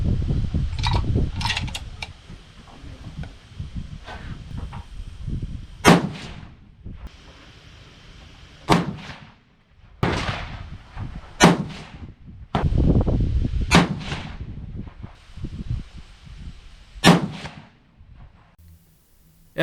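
6.5 PRC rifle loaded with 57.8 grains of Retumbo powder under Hornady 153-grain A-Tip bullets, firing a 5-shot group: sharp, loud reports spaced a few seconds apart over steady background noise.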